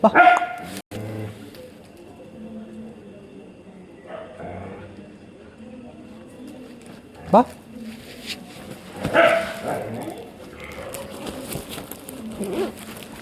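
Stray dogs in Kochi during mating season, with several sharp barks and yelps scattered among quieter stretches, mixed with people talking nearby.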